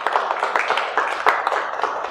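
Students in a university nutrition class clap together for all the presentation groups, a dense patter of many hands with small surges, fairly close and steady for about two seconds, with no talking over it.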